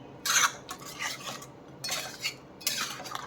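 A spoon stirs a hot tadka into creamy almond chicken in a pan, giving three or four distinct scraping, rasping strokes with short quiet gaps between them.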